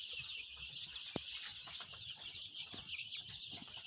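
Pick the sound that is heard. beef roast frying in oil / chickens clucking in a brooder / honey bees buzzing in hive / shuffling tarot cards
chickens clucking in a brooder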